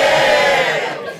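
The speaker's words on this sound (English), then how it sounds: "give me a cheer if you enjoy sex" A comedy club audience cheers and whoops in a short loud burst of crowd noise that fades toward the end.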